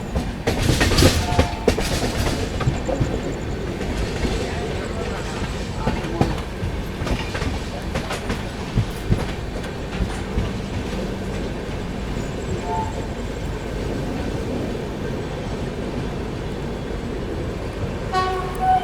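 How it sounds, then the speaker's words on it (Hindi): The 22159 Chennai Express rolls into Kurduwadi station, with a steady rumble and clickety-clack of wheels over rail joints. Horn toots and clatter come early, then a long steady run. Faint voices mix in the background. "कुरुडुवाड़ी अराइव करती हुई अपनी चेन्नई एक्सप्रेस।"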